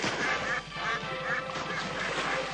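A duck quacks repeatedly in a quick, nasal run, close and clear over a faint background.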